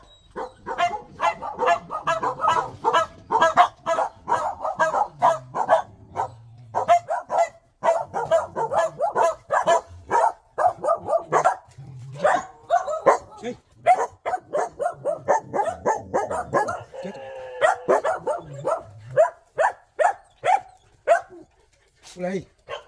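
Many dogs, including old ones, bark and yip in repeated bursts at a rural dog shelter in Đức Hòa, Long An, with people talking over and between the barks throughout.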